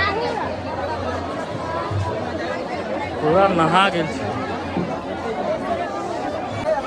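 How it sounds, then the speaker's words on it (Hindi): A dense crowd of devotees packs a Bhagwati temple during the Navami festival, a continuous loud babble of overlapping voices with one nearer voice rising above the hubbub partway through. "बहुत ज़्यादा भीड़ है"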